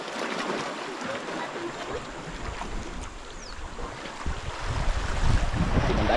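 Heavy sea rumbles and washes around, with gusting wind buffeting the microphone and a boat's low drone, swelling louder toward the end.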